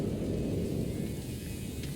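A thunderstorm in the video game No Man's Sky, a loud continuous low rumble of thunder mixed with rain noise and no break.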